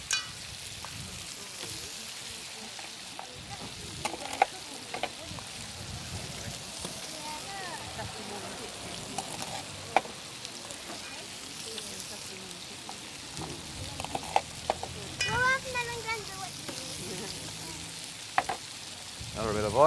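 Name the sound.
langoustines frying in oil in a pan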